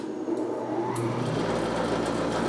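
A planer newly fitted with a helical cutterhead spins up and runs, a steady mid-low machine hum that settles into a continuous drone after a brief start, fairly close and loud, with no voices.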